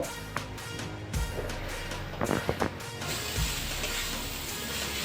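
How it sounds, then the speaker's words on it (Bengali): Fried potatoes sauté in a spiced masala with tomato paste, giving a steady close sizzle broken by a few sharp clinks of a stirring spoon against the pan. "ভাজা আলু একটু কষিয়ে নেব"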